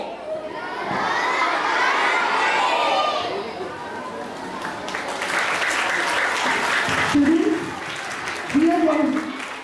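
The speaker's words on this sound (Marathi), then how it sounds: "आणि जोरदार टाळ्या आपल्या सर्व छोटे छोटे स्टुडंट ज्यांनी फार सुंदर इंटरव्ह्यू घेतली" Loud applause from an audience of schoolchildren honouring young student interviewers at an interview event, a dense burst of clapping mixed with children's shouts and cheering that thins out, with voices talking near the end.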